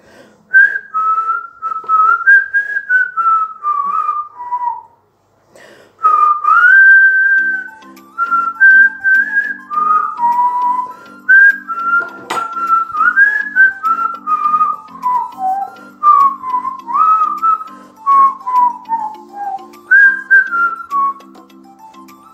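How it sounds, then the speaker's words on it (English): Someone whistles a wandering melody up close, long phrases rising and falling with short breaths between them, while a low steady accompaniment hums underneath. "Yes, I can whistle."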